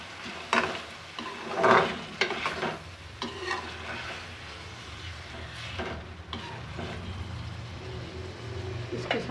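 Chicken masala with soy sauce being stirred in a pan, giving scraping, sizzling bursts over a steady frying hiss, moderately close, with a couple of louder clatters early on.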